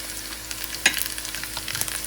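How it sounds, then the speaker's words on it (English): Scallions fry in hot oil as a cooking step for curry chicken wings with fresh curry leaves, a steady close sizzle and crackle with occasional sharper pops and stirring scrapes, no voices. "So here I'm frying up the scallion right now. Make it fry out in the oil."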